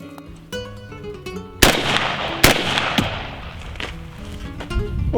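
Two sharp, loud shotgun blasts from a reloaded Fiocchi Exacta hull crack about a second apart, each followed by a short ringing decay, over quieter outdoor background and faint musical tones.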